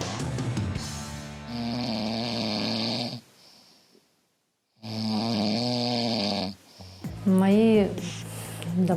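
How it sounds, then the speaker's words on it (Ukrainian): A 35-year-old woman snoring loudly in two long rasping bouts separated by a silent pause, followed by a shorter gurgling, rising snort near the end; no talk alongside. "І навіть уявити складно, що молода жінка може хропіти, немов чоловік на підпитку."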